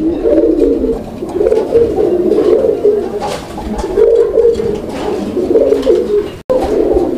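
A pair of pigeons, a Bombay male and a coloured female, coo loudly and close by in repeated soft, throaty rolling phrases with brief gaps between them, with no talking over them.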